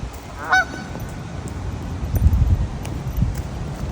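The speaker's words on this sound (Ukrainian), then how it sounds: "і звісно же, гуси." A single goose honks briefly near the start, followed by rustling outdoor background noise and a few faint calls further off.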